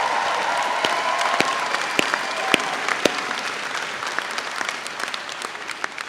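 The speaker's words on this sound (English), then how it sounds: "you should all take a big round of applause for" A graduation audience at Birmingham City University gives a round of applause, a broad continuous clapping texture with sharp individual claps standing out and slowly thinning toward the end.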